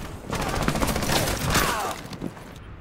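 Rapid gunfire in Rainbow Six Siege, a loud close burst of automatic shots firing in quick succession for a couple of seconds before trailing off.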